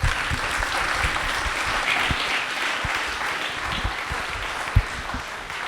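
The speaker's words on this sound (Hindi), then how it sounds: "क्या बात है, तालियां।" Steady applause from a quiz show audience rewarding a correct answer, an even wash of clapping throughout with a few sharper individual claps standing out.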